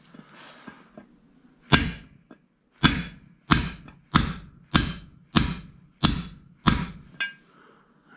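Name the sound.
bigger hammer knocking out transmission bushing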